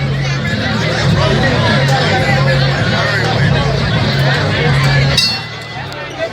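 Crowd chatter fills a boxing arena in Baltimore, a steady, dense hubbub of many voices with faint clinks, easing slightly near the end.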